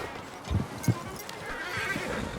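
A horse in the video game Red Dead Redemption 2 gives a couple of loud, close neighs and snorts while hooves clip-clop nearby.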